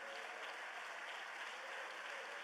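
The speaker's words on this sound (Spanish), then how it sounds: "Déle ese aplauso al Señor Jesús, a Él." Steady applause from a congregation at a church sermon, a dense wash of clapping with no pauses, heard at a moderate distance.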